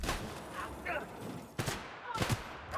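Shock bullets from a gun in the video game The Outer Worlds go off in several sharp bursts of electric gunfire, loud and close, with other game noise and speech in the mix.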